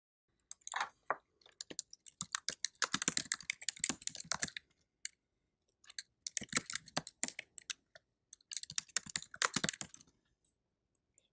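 Keywords typed on a computer keyboard in several bursts of rapid, crisp key clicks, close and clear, separated by short silent pauses.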